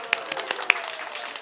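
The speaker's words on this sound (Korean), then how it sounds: "와, 박수!" Audience applause at a children's one-person puppet show during a book festival stage event, heard as a brief burst of scattered hand claps with a few sharper claps standing out.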